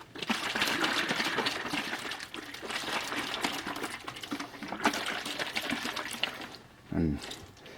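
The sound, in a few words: shaking lime water in a Nalgene bottle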